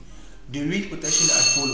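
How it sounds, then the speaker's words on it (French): A bell rings loudly with sustained, bright metallic tones over a person speaking, the ring starting partway through and continuing to the end. "excusez-moi de ce bruit-là, c'est la sonnerie"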